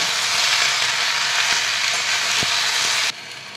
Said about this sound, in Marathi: आता त्यात आपण आहे ना हे जे टोमॅटो चिरून घेतले होते ना ते टाकूया, आवळे, आता हे सगळं मिक्स करूया।